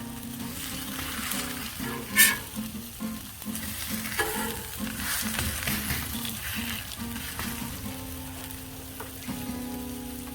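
Hash browns fry on a Blackstone griddle with a steady, close crackling sizzle throughout, a brief louder clatter of a spatula scrape near the start, and a low hum running underneath.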